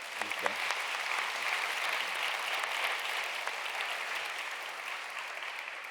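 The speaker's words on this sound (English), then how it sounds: "I think that deserves a round of applause." A conference audience breaks into applause after a marketing success story, a full, even wash of many hands clapping that holds steady and fades slightly toward the end.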